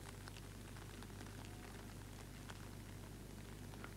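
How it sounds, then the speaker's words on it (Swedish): Warm, gentle drizzle pattering steadily on surfaces, a dense even hiss of fine raindrops with scattered louder drips, continuous and moderately close, with no voices. "Ett varmt, försiktigt duggregn som sedan växer i styrka."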